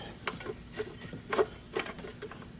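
A loose alternator pulley on a 1991 Mercedes-Benz 300SL makes a faint, irregular mechanical ticking and rattling, with soft clicks repeating roughly every half second over a low hum.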